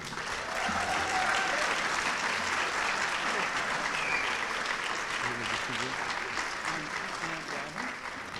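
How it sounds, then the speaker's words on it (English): A school auditorium audience applauds honored high school seniors at a senior honors convocation, sustained, dense clapping that fills the room steadily from start to finish. "Great big round of applause for these young people"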